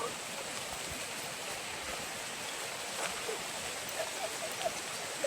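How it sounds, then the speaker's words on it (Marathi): Steady, soft hiss of rain falling, with faint scattered patters and drips throughout and no voices. "तर मित्रांनो पाऊस येलो"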